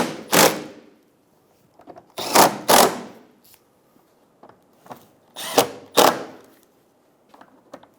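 A power tool snugging down engine mount bolts on a 2007-2011 Toyota Camry 2.4L, several short close whirring bursts separated by pauses with faint clinks.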